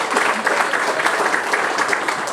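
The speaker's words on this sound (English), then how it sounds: "Let's give a round of applause for all of them" Crowd applause for veterans, precinct chairs and community leaders at a Tejano Democrats gathering, steady and fairly close, continuing without a break and with no talk over it.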